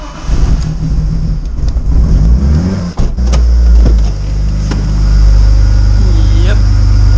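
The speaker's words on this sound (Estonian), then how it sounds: "Kuna küte on nii otsas, et auto ei tahtnud korralikult käimagi minna" A car low on fuel struggles to start, with uneven cranking sputters, a sharp knock partway through, then a loud steady engine rumble close by, while a voice talks over it.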